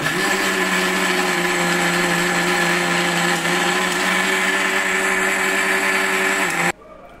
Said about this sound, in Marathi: शेंगदाणे, मिरची आणि जो बटाटा आहे तोही ह्याच्यामध्ये घालून घेते आणि मिक्सरला बारीक करून घेते